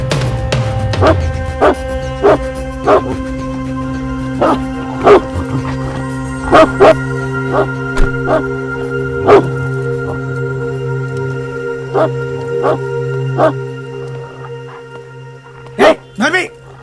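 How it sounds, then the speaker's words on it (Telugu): A dog barks in short, sharp bursts scattered over a long stretch, some barks in quick pairs, over a steady background hum. "ఇది సార్ కుక్కే కదా?"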